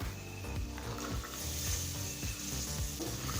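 Green peas for paneer biryani sauté in a pan, giving a soft, steady sizzle and crackle at close range with light stirring textures throughout.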